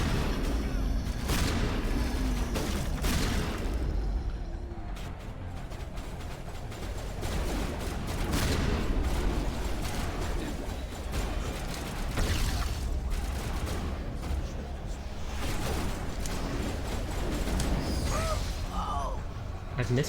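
Grenade explosions and heavy combat noise in the game Mass Effect, with dense booming blasts and gunfire-like bursts running continuously and loudly throughout, mixed under a busy battlefield soundscape.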